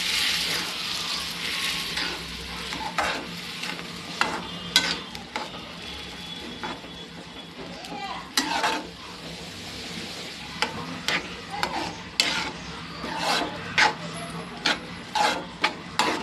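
Upma being stirred in a pan on low flame after curd water is added, with repeated close scraping strokes and soft taps over a quiet background sizzle, no talking.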